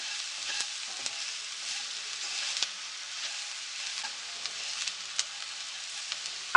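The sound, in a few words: onions and spices frying in a pan for samosa filling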